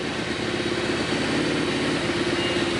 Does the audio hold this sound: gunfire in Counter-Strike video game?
no